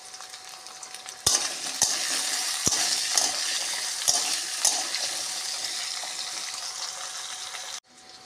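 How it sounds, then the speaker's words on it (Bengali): Diced potatoes frying in a pan for a Bengali thor ghonto, a continuous close sizzle with several sharp clinks of a utensil against the pan early on, ending abruptly. "আলুগুলো ডুমডুম করে কাটা আলুগুলো ভেজে নেব"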